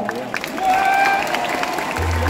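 Audience applause at a cosplay show on a convention stage in Paris, a dense patter of clapping mixed with faint voices and a low rumble at the end.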